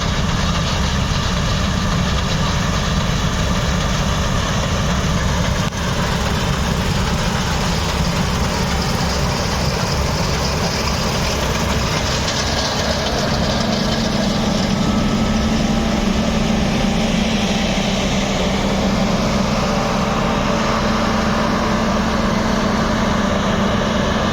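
A New Holland CR 9.90 combine harvester's engine drones steadily and loudly through a triticale harvest, a constant low rumble with a hum that rises and holds in pitch about halfway through, with no voices.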